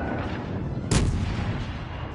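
A warship's heavy guns fire a single loud, booming shot in the naval game World of Warships: Legends, heard over a steady low engine and sea rumble.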